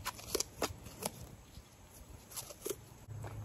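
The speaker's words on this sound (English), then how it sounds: "Just take the hockey tape off of it." Hockey tape is peeled off the handle of a Schrade SCHF3N throwing knife in a few quick, dry ripping bursts, close but quiet, with short pauses between pulls.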